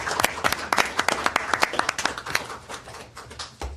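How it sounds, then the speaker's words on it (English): Audience applause at a regular council meeting: a burst of individual hand claps, fairly close and distinct at first, thinning out and fading over a few seconds. "So I think we should give them another round of applause for your work."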